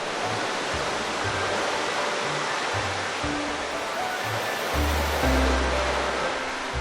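Sea waves break against rocky cliffs on Christmas Island in a continuous, loud, rushing roar, with a deeper rumbling surge swelling toward the end.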